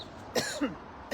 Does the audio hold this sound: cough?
yes